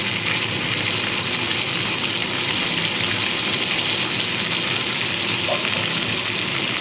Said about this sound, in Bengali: খুব বেশি ভাজবো না, যেহেতু মাথাগুলো ভাজাই রয়েছে।